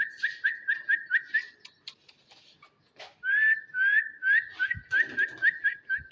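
A person whistles to a pet cockatiel during training, a quick run of short, bright whistle notes, a pause, then a longer, louder series of rising whistled phrases, close up with faint rustling in between.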